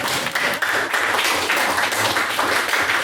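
Audience applause in a debating-society chamber after a motion is carried, a dense, steady wash of many hands clapping at moderate loudness for about three seconds, no voices standing out.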